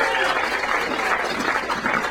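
An audience applauds for Bob Gurr at a Tiki Room tribute event, steady dense clapping from a crowd with a voice faintly audible beneath.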